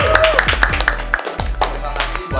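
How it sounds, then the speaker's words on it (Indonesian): An audience claps for a student body president at the close of a campus interview event, the applause rising in bursts under ongoing talk and a bright tonal background. "Boleh dong minta tepuk tangan yang meriahnya buat Presma kita."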